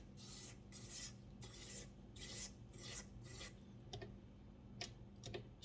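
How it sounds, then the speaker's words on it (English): Spatula scraping down a mixing bowl of cookie dough, a series of rhythmic rasping strokes followed by a few light taps, close and quiet, no talk. "So I'm just going to scrape down the bowl."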